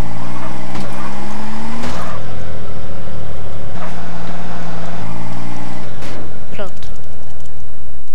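An accelerating car in the video game GTA San Andreas, with a loud engine whose pitch climbs in repeated steps as it shifts through gears, plus a brief squeal near the end.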